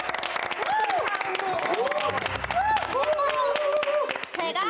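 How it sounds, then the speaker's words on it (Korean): A crowd of students applauds at a school leadership-candidate event, clapping steadily and loudly throughout, with voices calling out and chattering over the clapping. "박수!"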